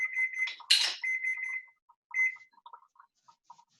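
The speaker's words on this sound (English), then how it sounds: "So that's the timer for our squash" A kitchen timer set for roasting squash during a plant-based holiday cooking session beeps in short, repeated, bright electronic tones, loud at first, then trailing off into sparser, fainter beeps, with no talking.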